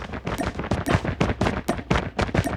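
Rapid gunfire from a shooter video game, sharp repeated shots in quick bursts at a steady rhythm, loud and close, with no voices over it.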